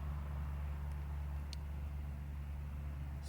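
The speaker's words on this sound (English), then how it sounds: "I'm sorry about the traffic." Steady low rumble of distant road traffic carrying into a forest, a continuous faint wash of far-off cars with no distinct passes, broken once by a brief high chirp.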